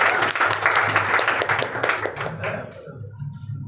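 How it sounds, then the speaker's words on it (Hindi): A church congregation at a Sunday service claps loudly and briskly for a couple of seconds, then the clapping thins and fades into quieter room sound. "उसको जोरदार तालियां बजाकर कहेंगे,"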